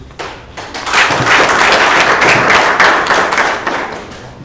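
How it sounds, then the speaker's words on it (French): Audience applause fills a hall at a school event, a dense sustained wash of clapping that swells in after a brief quiet start and holds steady to the end. "Je voudrais vous demander à vous d'applaudir pour les"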